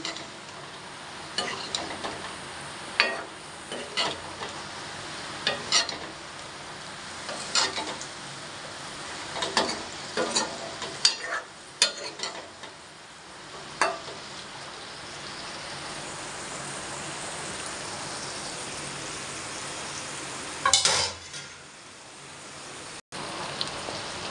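Okra sizzling in a pan under a continuous frying hiss, with repeated scraping stirs at irregular intervals, close by and fairly loud.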